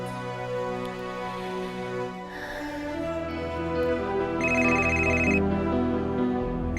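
A phone rings indoors in a TV drama scene, giving repeated electronic ringtone bursts that grow louder near the end, with no talking over it.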